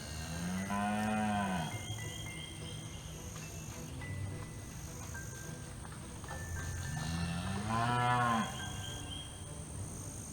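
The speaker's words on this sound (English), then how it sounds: "So a cow and her newborn calf are on the other side of the electric fence." A cow on a spring farm moos twice near her newborn calf, long deep calls several seconds apart, fairly close over a steady outdoor background.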